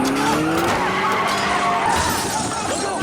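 A police car in an action film scene reverses hard through a rioting crowd, its tires squealing and skidding loudly and continuously, with crashing and voices mixed underneath.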